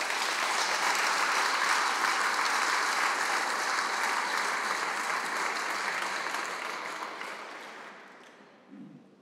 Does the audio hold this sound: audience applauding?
yes